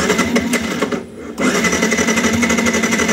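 Sport motorcycle, a CBR or R15 up for sale, being started, a loud, rapid mechanical chatter that cuts out briefly and then catches again, close by and with no talk.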